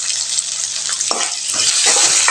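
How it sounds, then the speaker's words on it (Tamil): Tomatoes and onions sautéing in a hot pan with turmeric and salt for a broad bean stir-fry, a constant close sizzle broken by scraping stirs of a spoon, no talk. "இது நல்லா வதங்கி வரட்டுங்க."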